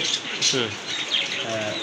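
Pigeons at a pigeon farm make soft, throaty coos and brief bursts of wing flapping close by, with someone talking over them.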